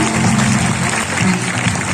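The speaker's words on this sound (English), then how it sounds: "Students, please clap for him." Students at a school reopening ceremony clap for a top-scoring pupil, a loud, dense burst of many hands filling a hall without pause.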